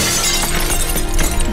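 Glass shattering in a Roblox video game, a loud dense crash with scattered breaking bursts running continuously through the short stretch, heard alone without talk.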